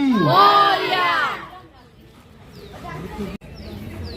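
Group of children and adults shouting a loud devotional Ganpati Bappa chant together at a Ganesh festival music-station competition, a brief energetic burst followed by quieter chatter and rustling.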